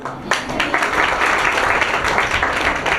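A school audience bursts into applause after a quiz answer, a dense, loud wash of many hands clapping that carries on steadily throughout.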